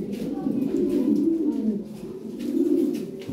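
Close Lahori pigeons coo continuously in low, rolling, burbling calls, swelling twice over a few seconds.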